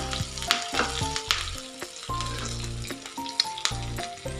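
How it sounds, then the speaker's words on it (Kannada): Green chillies fry in hot oil with cumin and mustard seeds for a North Karnataka girmit masala, giving a steady close sizzle with light stirring under background music; no one speaks. "ಆ ಎರಡನ್ನು ಸಹ ಈಗ ಎಣ್ಣೆನ ಸೇರಿಸಿ ಸ್ವಲ್ಪ ಅದನ್ನು ಫ್ರೈ ಮಾಡ್ಕೊಳ್ಳೋಣ"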